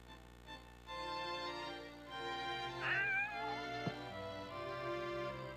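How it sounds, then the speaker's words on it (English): A kitten meows inside the video game Shadow of Memories, several clear, close, high mewing calls with a wavering pitch over a steady layer of game music. "Oh, you've got a kitten, haven't you?"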